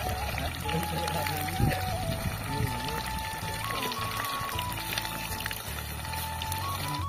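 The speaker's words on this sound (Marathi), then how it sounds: "राईस साठी पाणी ठेवलं." Water pours steadily into a cooking pot for rice at an outdoor riverside village cooking spot, a continuous running splash amid busy background noise with occasional voices.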